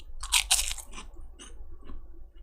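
Crunching on fried pork skins (chicharrones): a few crisp, close bites and crunches, fairly quiet, with no talking.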